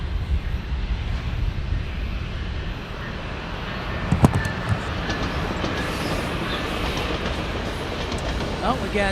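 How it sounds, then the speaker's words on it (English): A train rumbles past steadily near San Diego Airport with a low, continuous roar and faint clatter, mid-distance, with a few brief metallic clanks partway through. "Oh, we got the train coming by the coaster."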